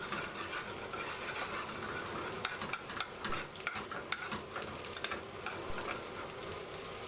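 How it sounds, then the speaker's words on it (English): Five slices each of red and green pepper fry in a hot pan while being stirred constantly, producing a steady, close sizzle with scraping and clattering stirring noises. "now I'm going to put in 5 slices each of red and green peppers"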